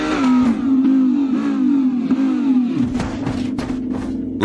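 Ferrari car engine revving hard, a loud, close, sustained mechanical roar with pitch rising and falling over several seconds and sharp bursts near the end.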